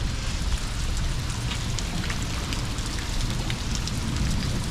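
Steady, dense rainfall pattering on surfaces during a lightning storm beside a canal, a continuous close hiss and patter with no voices.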